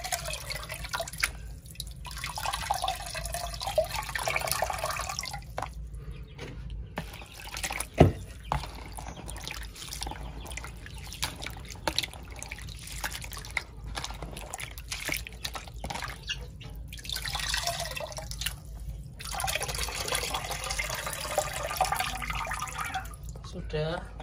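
Water runs and drips at a kitchen tap while ingredients for pepes pindang are washed, in soft, uneven trickles and splashes with one sharper knock partway through, under occasional talk.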